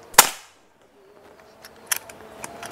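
One sharp, loud crack of a double-tank Black Army Viper PCP air rifle shot right at the start, then near silence with a few faint clicks.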